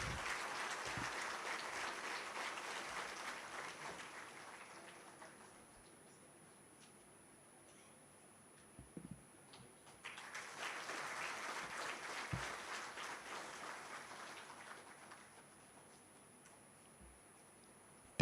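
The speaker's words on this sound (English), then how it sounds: "Please give a big round of applause." Audience at a summer camp inauguration clapping in two sustained waves of applause, moderately distant, with a steady high electronic whine and a few soft thumps in between.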